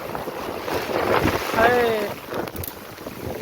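Strong wind gusts through a village during a rainstorm, a steady broadband roar with buffeting rumble on the microphone, and a voice briefly rises over it midway.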